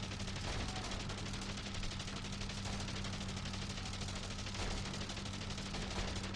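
Biplane machine gun fire in the Wings! Remastered Edition flight game, a dense rapid rattling burst that runs continuously over a droning engine hum, loud and close.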